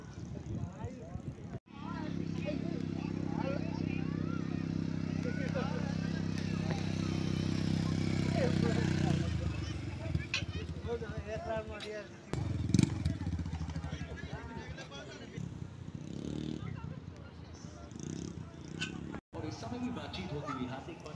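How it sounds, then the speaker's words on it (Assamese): Scooters and motorbikes ride on sand at the Brahmaputra Carnival fair. A low, droning engine hum swells and fades in the distance beneath close conversation and a busy outdoor background. "এয়া স্কুটি বাইক এইবিলাকৰো বালিৰ ওপৰত খেলি আছে"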